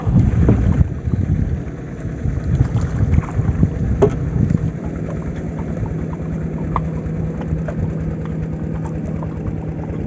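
A boat motors past on a Sundarbans river, its low engine drone and water wash fairly close at first, then settling into a steady hum with wind buffeting the microphone.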